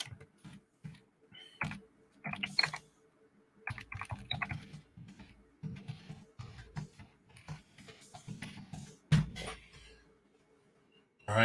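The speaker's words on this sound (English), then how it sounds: "So you got to type it in." Fingers tap a computer keyboard in bursts of quick, light clicks separated by short pauses, close and fairly quiet, with no talking.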